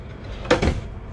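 Small drawers in the galley of an Entegra Odyssey Class C motorhome at an RV show slide open and shut, giving one brief close-miked clunk and rattle of light cabinetry with no talk.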